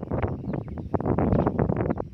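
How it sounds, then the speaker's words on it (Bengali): Strong wind gusting by the water during village fishing, a steady loud broadband rush buffeting the microphone throughout with no clear pauses. "প্রচুর বাতাস হচ্ছে, প্রচুর বাতাস হচ্ছে।"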